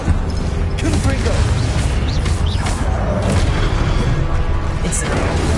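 Repeated booming blasts from the Confringo fire spell in Hogwarts Legacy, a dense, loud rumbling stream of explosive bursts over game effects, with a voice audible beneath the clamor.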